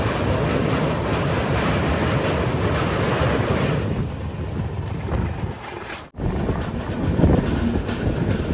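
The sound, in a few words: Samata Express train arriving at Titlagarh Junction station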